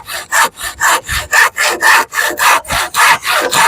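A handsaw cutting wood for a potato box, about a dozen loud, even rasping back-and-forth strokes in a steady rhythm, close and alone.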